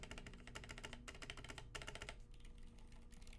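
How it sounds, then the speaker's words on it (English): Fast typing on a mechanical keyboard with lubed Holy Panda X switches and Novel Keys PBT keycaps, dense muted clacks with a sharp pingy spacebar, then a brief pause before softer keystrokes resume, close and clear. "Suddenly the spacebar sounds quite pingy."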